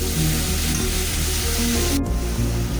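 Onions and capsicum sizzle in a hot pan while cooking chitranna, a steady, loud hiss that continues without pause.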